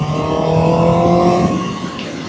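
A 2025 Kawasaki ZX6R sport bike fitted with a Yoshimura AT2 3/4 exhaust system revs loudly and close up in one sustained, steady burst that eases off toward the end, with no voices.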